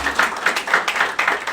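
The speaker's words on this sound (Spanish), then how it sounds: "Es un aplauso por estar aquí en esta noche." Dense crowd applause with overlapping claps, steady and fairly loud throughout, no voices standing out.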